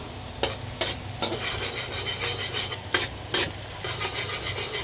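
Mixed seafood fries and browns in a pan with a steady sizzle, broken by occasional scraping stirs and utensil clicks, close and continuous.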